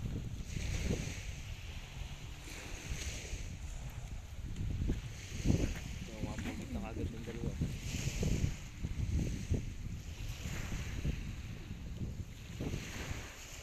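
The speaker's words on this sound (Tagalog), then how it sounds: "Medyo malakas ang hangin." Steady wind rushing and buffeting against the microphone outdoors by the sea, with a low rumble throughout and no clear voices.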